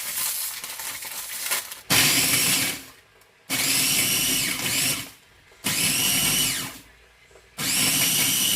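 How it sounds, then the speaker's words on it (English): Biscuits being crushed for a no-bake cheesecake base in a food processor, loud whirring bursts repeated about four times with short quiet pauses between, close up. "now the first stage is to crush our biscuits"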